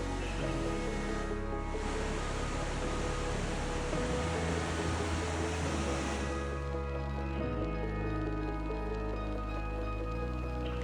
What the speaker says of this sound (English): the water crashing onto the rocks below